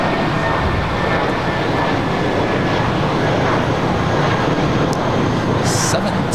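A Qantas Flight 17 jet arriving from Sydney gives a loud, steady broadband roar that fills the whole stretch without a break, with faint traces of radio talk underneath.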